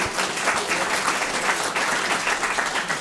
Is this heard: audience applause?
yes